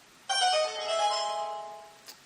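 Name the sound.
Legend of Zelda secret solved sound from a video game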